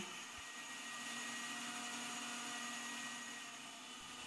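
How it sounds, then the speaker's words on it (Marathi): A mixer grinder whirs steadily as it grinds a cooled masala paste of onion and tomato without added water, a continuous loud motor drone with no talk. "म्हणून ते मिक्सरला फिरवून घेते"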